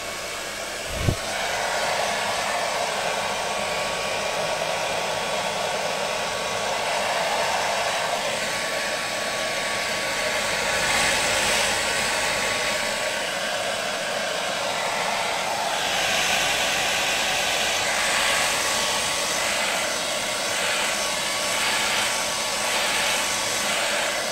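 A hair dryer blows hot air steadily over Flashe vinyl paint to dry it, a loud continuous roar that goes on unbroken for the whole stretch, with one sharp click right at the start.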